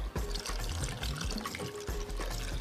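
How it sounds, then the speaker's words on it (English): Warm water is poured over squeezed lemon and salt in a Moroccan kitchen, a close, bubbling, splashing stream that runs continuously with slight surges. "And you cover it with warm water."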